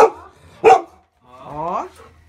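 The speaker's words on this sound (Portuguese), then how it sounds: "mas não é pra latir assim" Dog barks twice in short sharp bursts, then gives a longer rising whine or howl, close and fairly loud, with quiet gaps between.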